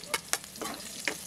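Onions hit hot oil in a frying pan while cooking crab in coconut milk, giving a soft sizzle with a few quick stirring scrapes close by.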